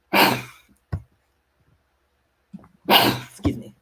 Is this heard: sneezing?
yes